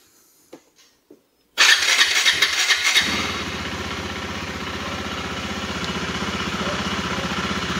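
A 2019 KTM Duke 390 motorcycle engine starts: a few soft clicks and a short starter crank, then it catches and settles into a steady, close idle that runs on alone.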